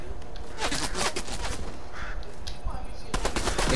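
Rapid gunfire from the Fortnite video game crackles in dense, repeated bursts across the whole stretch, with a few sharp single shots near the end, over busy game background noise.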